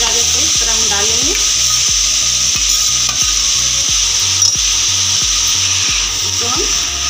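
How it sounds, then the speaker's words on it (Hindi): Carrots sizzle loudly in hot ghee over a high flame while being stirred, a constant close frying hiss broken by regular scraping strokes of the spoon. "बस घी हमारा गर्म हो गया। सारे गाजर को इस तरह हम डाल लेंगे"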